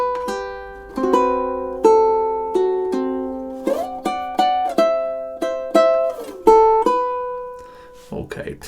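Ukulele playing measures 6 to 8 of a song, a steady run of strummed and plucked chords with ringing notes, ending in a brief rustle, played alone.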